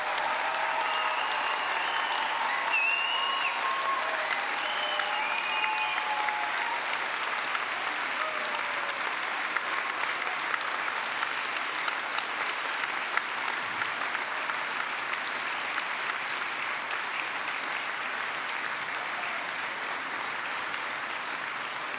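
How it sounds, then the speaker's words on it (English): A large audience at a university graduation ceremony applauds steadily and loudly, with scattered cheers and whistles rising early on before settling into sustained clapping. "with a warm round of applause, and not a little cheering"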